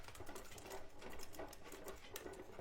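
Faint, soft mechanical whirring and clicking as a Sizzix Big Shot die-cutting machine is cranked and rolled through, a steady quiet grind lasting a few seconds.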